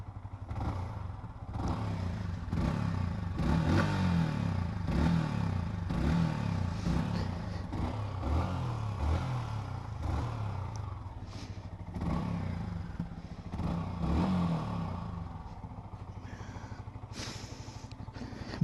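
A motorcycle engine runs close and loud for the whole stretch, its pitch rising and falling with repeated revs over a steady rumble, with occasional clattering knocks and no talk.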